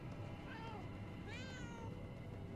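A cat meows twice in the video game Murdered: Soul Suspect, rising cries that sound faint over a steady low game ambience.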